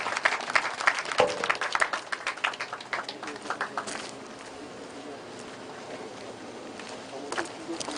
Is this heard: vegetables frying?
no